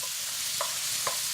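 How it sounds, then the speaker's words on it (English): Shrimp and basil stir fry is stirred in a pan, giving two brief, soft scrapes over a steady, faint sizzle with no voices. "I'm going to give that a stir"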